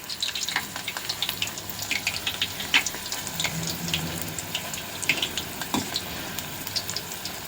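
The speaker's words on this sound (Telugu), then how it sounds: "ఈ రీతిగా మనము కొంచెము బ్రౌన్ కలర్ వచ్చే వరకు చక్కగా ఫ్రై చేసుకుందాం." Mirchi bajji, batter-coated chili fritters, deep-frying in hot oil, a steady bubbling crackle with scattered pops and occasional louder spits, fairly close and without any talk.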